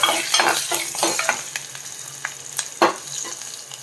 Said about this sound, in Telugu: ఒక రెమ్మ కరేపాకు కూడా వేసుకొని సన్నగా తరిగినటువంటి పచ్చిమిరపకాయలు కూడా వేసుకోవాలి ఇలా వేసుకొని ఒకసారి వీటిని వేయించుకుందాం